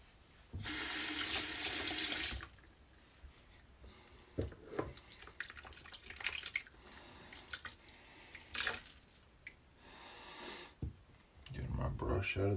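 Tap water runs hard into a sink while a paint brush is rinsed, a loud steady gush for about two seconds, then quieter splashes, clicks and handling sounds with occasional speech, and the water surging again at the end.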